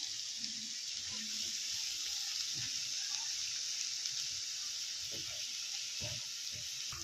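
Chicken liver kaleji fries with coriander in a pan, giving a steady hissing sizzle at moderate level, joined by scattered clinks and scraping of a spatula.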